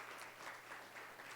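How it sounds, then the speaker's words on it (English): An audience at a government national development vision session applauds, a faint, steady wash of distant clapping with no distinct individual claps. "Let's give her another round of applause"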